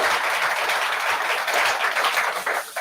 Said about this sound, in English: I want to give you all a round of applause